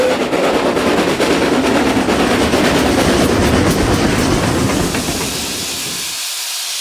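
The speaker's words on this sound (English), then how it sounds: "steam trains had travelled again on a short section of the old line" A steam train on a restored section of old railway line in Wales rumbles past loudly with a heavy hiss and rhythmic chugging, the roar fading away toward the end.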